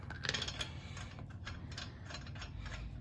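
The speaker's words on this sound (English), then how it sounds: "You're going to take all your lugs and start screwing them on." Lug nuts being threaded back onto a car wheel by hand, a quiet run of small ratcheting metal clicks and scrapes, close and fairly faint, with no speech.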